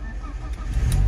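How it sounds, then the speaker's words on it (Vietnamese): An old, cheap used car's original 1.6-litre engine starts, a low rumbling crank that builds into a steadily louder idle toward the end, close by. "Đây con này thì nổ máy rồi."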